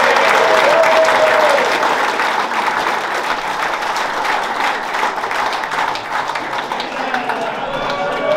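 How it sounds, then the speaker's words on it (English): Fans at a forum welcome new football manager Tommy Widdrington with a loud, steady round of applause that holds for several seconds, with a few voices mixed into the clapping. "Little round of applause."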